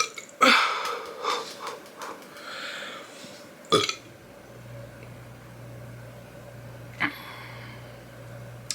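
Loud, close burps erupt during a Little Caesars pretzel crust pizza meal, two deep belches a few seconds apart followed by a softer one, with quiet sniffs and a low steady hum between.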